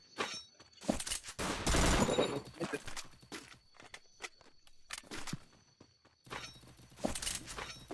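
Gunfire in the mobile battle game Free Fire: sharp bursts of shots and a rapid volley stand out over a busy game soundscape with footsteps, while someone talks over the action.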